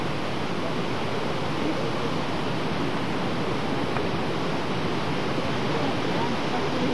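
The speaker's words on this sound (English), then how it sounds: "Pretty sight. Waterfall." Steady roar of a mountain waterfall, a broad continuous rush of falling water heard close and unchanging, with no talking over it.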